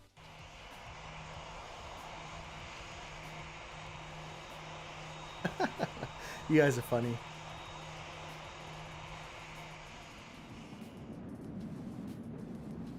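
Airplane engine in the World of Airports game, at an in-game Leipzig (LEJ) airport, a steady droning hum that holds throughout, briefly overlaid by someone talking in the middle before the engine tone drops away near the end.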